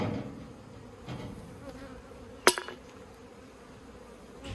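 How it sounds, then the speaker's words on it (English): Honey bees fly around the front of a top bar hive on a warm, sunny day, a soft steady buzzing drone with one brief sharp tap partway through. "there's plenty of action around the front of this hive"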